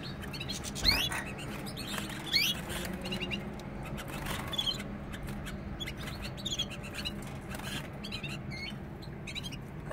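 Male canary and goldfinch chirping inside a cage: scattered short tweets and trills, fairly faint, over a steady low background hum.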